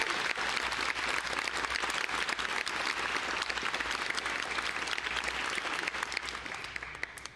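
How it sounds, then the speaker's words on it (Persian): A studio audience at a televised pantomime quiz contest breaks into sustained, steady applause lasting several seconds, dense clapping that fades slightly at the end. "تشویقشون کنید."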